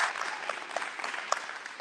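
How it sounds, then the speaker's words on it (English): Applause from an audience, a steady patter of many hands clapping with a few sharper claps standing out, fairly close. "please give her another round of applause"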